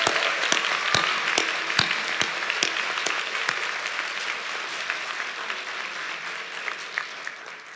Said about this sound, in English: Please help me give Paxton, Cameron, Natalie, and Sam a warm round of applause